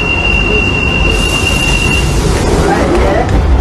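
A London train rumbles loudly along the rails with a sustained high-pitched wheel squeal and steady clattering roar throughout.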